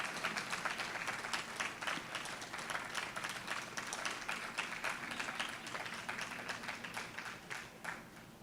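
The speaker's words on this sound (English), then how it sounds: "they deserve a huge round of applause" Applause from an audience at an outdoor groundbreaking ceremony for a children's urban garden project, steady moderate clapping that carries on throughout and tapers slightly at the end.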